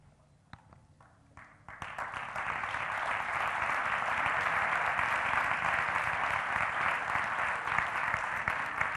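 Audience applause at an award ceremony during a chamber of commerce club's tenth anniversary event: faint at first, then swelling after about two seconds into loud, sustained, steady clapping from the whole room.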